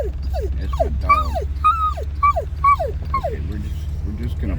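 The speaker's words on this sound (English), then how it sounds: "That's the dog." A dog whimpering inside a car parked at a volcanic national park, a run of about eight high, falling whines in quick succession over a low engine hum.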